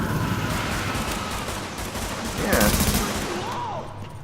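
Sustained gunfire from a firefight in The Division beta video game, dense bursts of shots layered over a noisy battle mix, growing louder and more intense midway.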